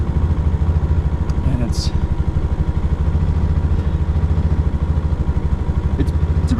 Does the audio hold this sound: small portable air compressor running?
yes